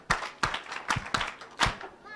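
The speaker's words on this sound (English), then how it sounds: "Clap for Mike, and another one, and another one." Children at a climate summit clap in a slow, even rhythm, about five sharp claps spaced roughly every third of a second, close and distinct.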